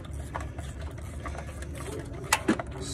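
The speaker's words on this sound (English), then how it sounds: "So now I'm just going back in and tightening everything up, tightening back up." A hand tool tightens bolts on the plastic covers of a Toyota 2UZ-FE V8 during a timing belt install. Close, rapid ratcheting clicks are followed by a couple of sharper knocks near the end, with a faint voice in the background.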